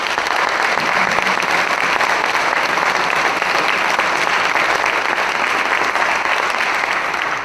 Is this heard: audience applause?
yes